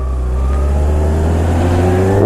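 A 600cc sport motorcycle engine runs loud and close, with a steady, rising engine drone that builds slightly toward the end and no talking.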